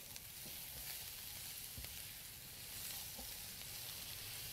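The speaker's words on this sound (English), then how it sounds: "So in goes at this point some finely diced onion." Finely diced yellow onion frying in leftover bacon grease for a quiche, a steady close crackling sizzle that holds evenly throughout with no talk.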